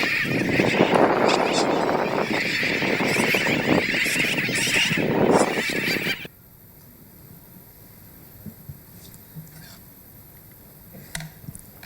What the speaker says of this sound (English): a really short clip of these sooty terns, which I hope will give you a great sense of what a healthy bird colony looks like and actually how noisy it is